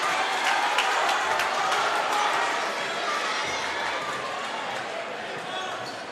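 A crowd in a gym at a boys' high school basketball game between Little Miami and Lebanon on Hall of Fame night cheers in a steady, broad roar, loud and lasting throughout, with a voice talking over it.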